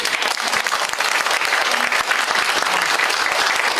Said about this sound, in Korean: 우리 여자분들 위해서 박수 한번 쳐주세요